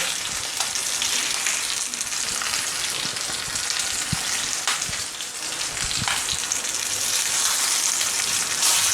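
A bone-in steak searing in a cast iron skillet gives a loud, dense, continuous sizzle with crackling spits, close and unbroken throughout, with no one talking.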